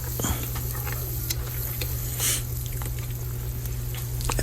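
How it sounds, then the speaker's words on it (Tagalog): Meat searing in a hot pan for a Filipino taro-leaf dish, a loud continuous sizzle with occasional stirring scrapes and a low steady hum beneath, no talk. "sangkutsain muna natin sandali yung ating karne"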